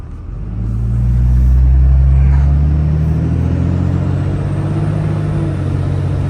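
A 3rd gen Cummins diesel truck engine with a cooling failure rumbles loud and close while driving, climbing in revs and then holding a deep, steady drone.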